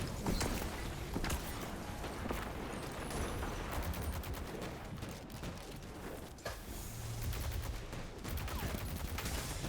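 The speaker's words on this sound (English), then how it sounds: "Firing missiles." Rapid bursts of missile fire from the video game Terraria Calamity in Death Mode, a dense, continuous barrage of popping shots and impacts at steady loudness throughout.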